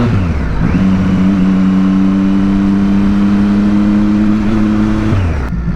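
A Triumph RS765 motorcycle engine drones loud and close, climbing briefly and then holding a steady, throaty note for several seconds before dropping away, with no distinct gear-shift breaks.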